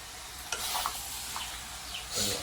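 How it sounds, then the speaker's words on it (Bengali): Meat is stirred and fried with a metal spatula, giving a steady close sizzle broken by a few scraping strokes against the pan. "তো দেখো ও খুন্তি নাড়ছে"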